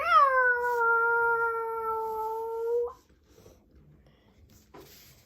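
A person drawls a long, sustained, wavering meow imitating a cat, lasting nearly three seconds, followed by quiet with faint rustling.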